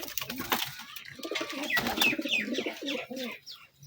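Young Kaldam and Lotan pigeons coo softly nearby amid busy background chatter and rustling, brief overlapping calls filling a few seconds.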